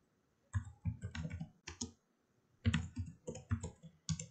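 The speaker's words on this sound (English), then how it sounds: "Let's right mouse click on that" A handful of crisp computer mouse clicks in two quick bursts, close and fairly quiet, with a short pause between the groups.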